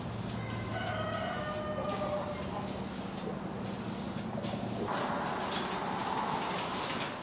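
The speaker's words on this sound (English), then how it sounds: "And then I go ahead and finish them with spray lacquer." Continuous hissing spray from an aerosol can of lacquer onto wooden bottle openers, long steady bursts with brief pauses, close and fairly loud.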